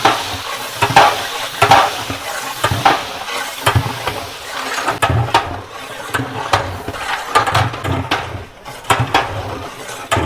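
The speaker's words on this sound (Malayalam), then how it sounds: "നമുക്കിനി അതിലേക്ക് ഏലക്ക, കറുവപ്പട്ട, തക്കോലം, ഗ്രാമ്പു, വലിയ ജീരകം, കുരുമുളക്, ജാതിപത്രി കേട്ടോ ചെറുതായിട്ടൊന്ന് മൂപ്പിക്കുക കേട്ടോ." Whole spices (cardamom, cinnamon, star anise, cloves, fennel, pepper, mace) and chopped pineapple frying in oil in a large pot for a 50 kg batch of ghee rice, a loud crackling sizzle with repeated heavy stirring scrapes.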